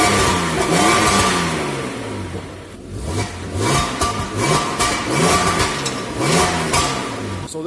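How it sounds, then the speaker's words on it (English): A 1999 Audi A4 B5 2.4 V6 with a sports exhaust, warmed up after a cold start at -7 °C, revs repeatedly, each blip rising and falling in a loud, close, rhythmic cycle with no talking. "let's rev it up a tiny bit so you can hear this wonderful"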